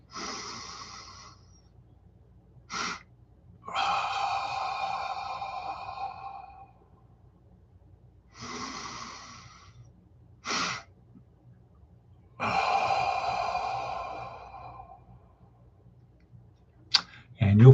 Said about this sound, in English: So we inhale fully, and then you do another through your nose